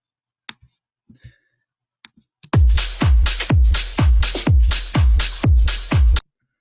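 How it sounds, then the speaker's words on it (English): A swung, shuffly house drum beat built in Ableton, with a few sparse clicks before a loud loop kicks in: punchy kicks and bright hats in an even, groovy pattern, played alone without talk. "So we have a nice swung sort of house, shuffly, groovy beat there"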